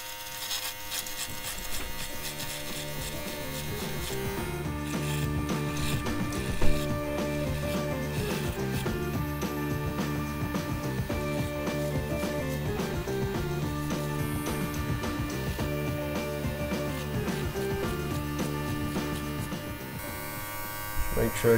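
An electric beard trimmer with a 1 or 2 millimeter guard trims a beardstache, buzzing steadily up close with a constant motor whine and slight shifts in pitch as it moves through the hair.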